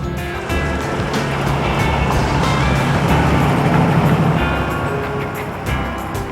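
A 1949 Ford at an auto fest rolls past close by, its engine rumble rising and fading as it drives along the street, with broadband road noise and no talk.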